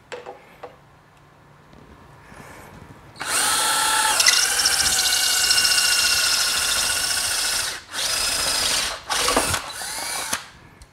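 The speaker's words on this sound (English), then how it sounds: "This is the 3/4 inch hole saw." A power drill running a 3/4 inch flat hole saw, cutting a center hole for a generator's digital electric monitor build: a quiet start, then a loud steady whine for several seconds with two brief pauses before stopping.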